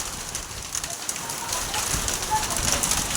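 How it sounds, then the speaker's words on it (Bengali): A heavy hailstorm beats steadily on roofs as a dense, hissing patter of stones that grows slightly stronger, with faint voices in the background. "চারিদিকে শিলাবৃষ্টি হচ্ছে, প্রচণ্ড শিলাবৃষ্টি"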